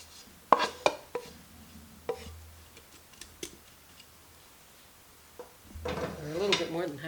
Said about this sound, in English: Then we're going to put in half of our meat mixture.